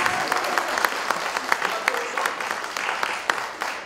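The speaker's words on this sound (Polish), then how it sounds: "Wielkie brawa!" Concert audience applause at a Michael Jackson tribute concert, a crowd clapping steadily with sharp individual claps standing out, moderately loud and continuous.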